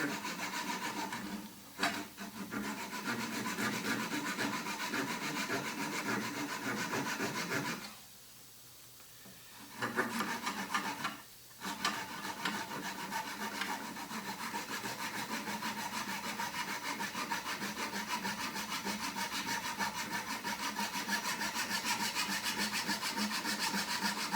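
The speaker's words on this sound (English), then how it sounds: "I'm going to use one of my Japanese saws to take the tenon off." Steady, rhythmic rasping of a Japanese hand saw cutting a wooden tenon off a bowl blank, with two brief pauses, continuing close and fairly loud.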